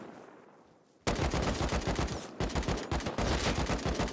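Rapid automatic gunfire from the video game Rust erupts after a quiet moment, a loud, close stream of repeated shots with a brief pause before firing resumes in fast bursts.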